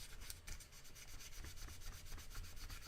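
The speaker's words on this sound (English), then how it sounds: "I'm only sanding it through like in 2 spots" Sandpaper rubs over primer on a 3D-printed model in quick, even back-and-forth strokes, close and dry, with no voices.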